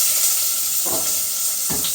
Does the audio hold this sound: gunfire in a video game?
no